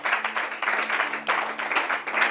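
A church congregation claps and cheers in steady, fairly loud waves of applause, with voices calling out under the clapping.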